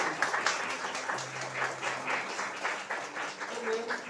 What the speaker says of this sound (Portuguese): Vamos dar uma bonita salva de palmas a São